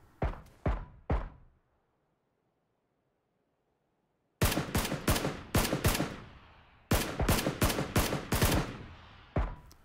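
Gunshots aimed around a tree in a PUBG squads match on Xbox: three sharp shots, a few seconds of silence, then two loud clusters of rapid, rhythmic fire, each about two seconds long.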